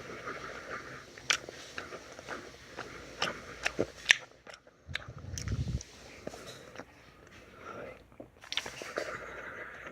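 Gummy worm candy is chewed close up, with soft, sticky, irregular bites and squishy chewing sounds and brief quiet pauses.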